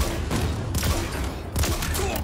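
Needler fire from the Halo video game in a Fiesta match, a loud, dense fusillade of rapid shots and booms throughout, with a burst around the middle and another near the end.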